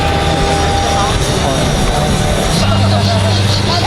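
Lockheed C-5M Super Galaxy military transport flying past at the Dover airshow, a loud continuous engine roar with steady droning hum, close and filling the air throughout, with a voice speaking over it.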